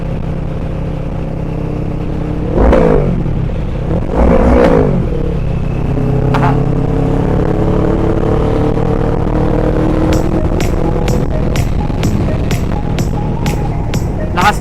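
An MT motorcycle with an open exhaust pipe revs hard twice, each loud rising-and-falling roar close by, then settles into a rough idle with a run of sharp ticking pops.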